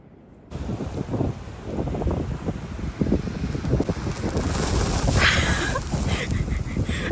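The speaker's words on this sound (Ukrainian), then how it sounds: "Трошки вітряно." Strong wind on a winter hiking trail buffets the microphone with steady low rumbling and gusty roar throughout, loud and close, with no clear voices.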